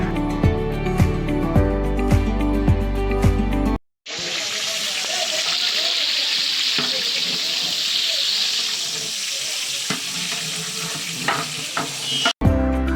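Food simmers and is stirred in a pot while cooking on a boat on Mithamoin haor, a continuous close sizzle with scraping spoon strokes; music plays before the sizzle cuts in and returns briefly as it ends.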